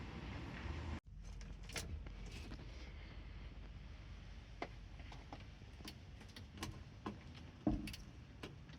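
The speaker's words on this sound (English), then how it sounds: "I can hear relays clicking." Relays in a Renault Twingo click as the battery is reconnected during a battery relocation, giving scattered sharp ticks of varying loudness over a quiet background with faint wind noise.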